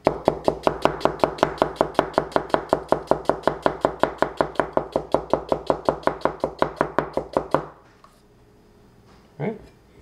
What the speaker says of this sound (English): And that is chopping